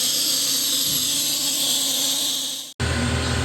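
Vacuum coolant filler drawing a vacuum on a Mercedes SLK200 cooling system, a loud continuous airy hiss that holds steady, briefly cuts out near the end, then resumes with a deeper rushing tone.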